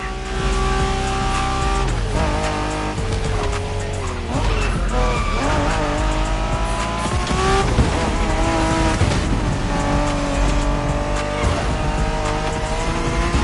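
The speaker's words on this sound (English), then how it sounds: "We're going for some proper Japanese street racing." Japanese street racing cars in The Crew Motorfest roar through shifting engine revs, with tires squealing and skidding through corners in a loud, continuous race sequence.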